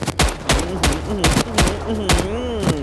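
Gunfire in the mobile zombie shooter The Walking Zombie 2, a handful of loud, close shots spaced about half a second apart, each followed by a short metallic ring, with no voice over them.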